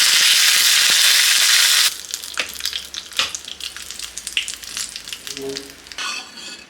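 Mustard seeds, cumin and a sprig of curry leaves hit hot oil for a moong dal tempering, setting off a loud, dense hiss that then breaks into scattered crackles and pops, with no voices.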